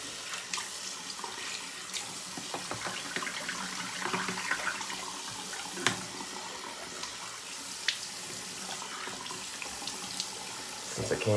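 Water runs from a tap to rinse shaving lather off a face, a steady faint splashing stream throughout with a few small knocks and no talk.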